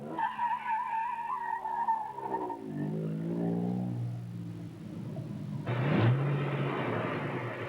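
A Citroën car climbs a steep 25 to 30 percent test slope. The engine note strains, rising and falling, and a short tire squeal and skid come near the end.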